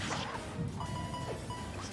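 Forward smash attacks land in a Super Smash Bros match between Duck Hunt and Greninja, sharp crashing hits and swishing whooshes repeating over about two seconds amid busy game sound.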